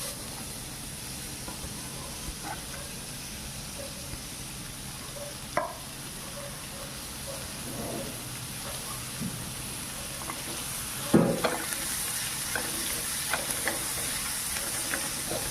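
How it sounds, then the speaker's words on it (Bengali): Chopped onions fry in hot oil with a steady, soft, close sizzle. A few light stirring clinks break through now and then. "তেল গরম হয়ে গেলে আমি এতে এবার পেঁয়াজ কুচিগুলো দিয়ে দেবো।"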